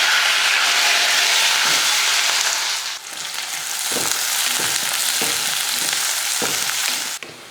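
Small shallots, garlic cloves and curry leaves fry in hot oil in a kadai alongside fenugreek seeds: a loud, steady sizzle that softens after a few seconds, then regular scraping stir strokes cut through the crackle.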